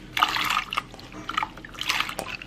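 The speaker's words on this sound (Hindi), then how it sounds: "मैंने कुकर में पानी चढ़ा दिया, अभी हम धीरे धीरे करके दाल डाल देते हैं।" Mixed lentils pour in bursts into water in a pressure cooker, giving three or four soft splashing, trickling pulses separated by brief pauses, close and fairly quiet.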